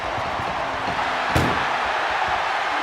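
A steel cage door slams shut once, a sharp metallic bang rising partway through, during a televised WWE steel cage wrestling match, over steady arena crowd roar.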